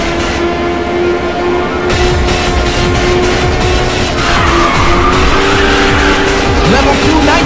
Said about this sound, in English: Good drift!